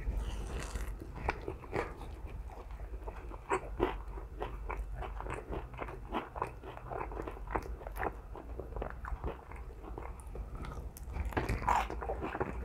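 A Buffalo Wild Wings chicken drumstick coated in orange chicken sauce is bitten and chewed up close, with repeated soft crunches and wet mouth sounds in a quiet room.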